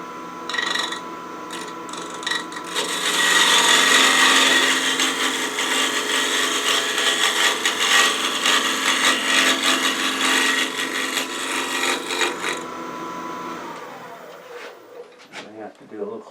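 A spindle gouge cuts into a jarrah wood bowl spinning on a wood lathe, a loud continuous scraping whir that runs steadily for about twelve seconds before the cut ends and the noise fades.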